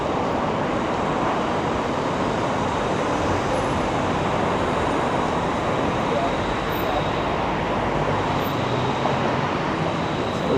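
Dense, continuous roar of congested downtown Toronto street traffic with buses near Bay Street in the South Core, a steady broadband wash of engines and tires with no pauses, loud and close throughout.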